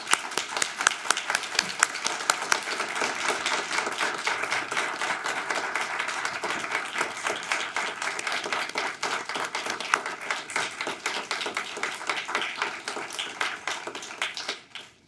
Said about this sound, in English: let's please give these fine individuals a round of applause